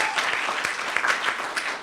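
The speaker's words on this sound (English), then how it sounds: "Can we give a round of applause for them?" Congregation at a church gratitude service applauds the sound team, a moderate, continuous spread of clapping from a crowd with a few sharper claps poking through.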